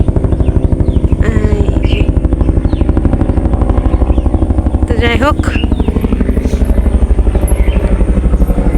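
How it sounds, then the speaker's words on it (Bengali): A loud helicopter thrums with fast, pulsing rotor beats throughout, very close overhead, while a person talks briefly over the noise. "ওই যে দেখেন হেলিকপ্টার আইতেছি"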